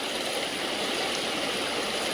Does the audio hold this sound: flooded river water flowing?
yes